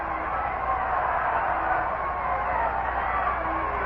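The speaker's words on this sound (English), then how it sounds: "the crowd is trying to get something started here" Baseball crowd at the Polo Grounds in New York during a Mets game, a steady, fairly distant murmur and cheering wash with no distinct peaks, continuous throughout.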